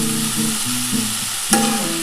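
Bitter gourd and potato frying with onion in a pan, a steady close sizzle with stirring scrapes and one sharp clatter of the spoon partway through.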